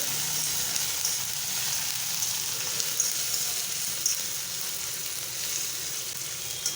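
Chopped small onion sizzles in hot oil with frying garlic for a dal-eggplant dish, a steady close frying hiss running throughout with faint scrapes of stirring.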